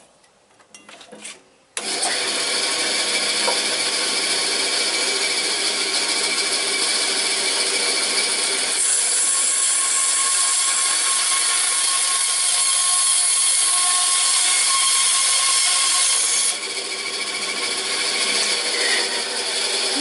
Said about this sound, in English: So I'm here at the bandsaw, and it's all tensioned. And the only thing I'm going to do is cut off this little part here